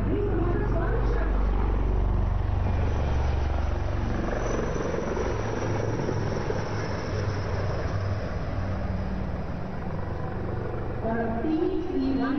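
Military aircraft formation roaring low over Rajpath during the Republic Day 2019 parade, a steady loud engine drone filling the whole stretch with no pause.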